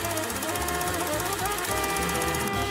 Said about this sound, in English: push the little magic lever down on the floor, and it'll start sewing for you